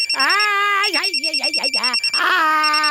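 A telephone rings with a repeating electronic trill, loud and close, while someone talks over it throughout.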